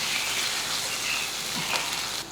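Green chilies, curry leaves and cashews sizzle in hot oil in a pan, a tempering for jowar pongal, with a steady, close frying hiss throughout and no talking.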